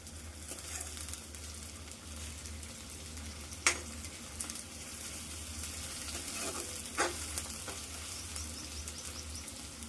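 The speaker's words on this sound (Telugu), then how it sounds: "ప్రజెంట్ అయితే ఆనియన్స్ వేగుతున్నాయి అంటారు" Onions frying in oil for a chicken curry give a steady, close sizzle and hiss, broken by a couple of sharp pops or stirring clacks, with a low background hum and no talk.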